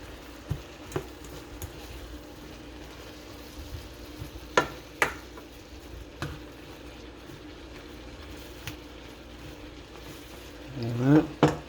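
Squash stirred in a pan, with a soft continuous sizzle broken by scattered utensil knocks and scrapes, close and moderate in level, and a louder clatter near the end.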